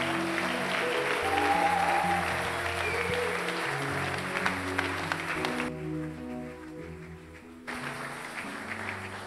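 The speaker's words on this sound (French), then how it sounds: "Merci pour vos acclamations." A church congregation applauds and cheers steadily for several seconds, then the noise drops away briefly before the clapping resumes, with music or organ tones sustained underneath.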